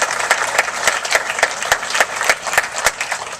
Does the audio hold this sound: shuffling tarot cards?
no